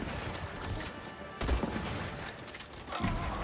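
Gunfire in the video game HighGuard, rapid bursts of shots close and loud, with sharp volleys near the middle and end over a constant busy backdrop.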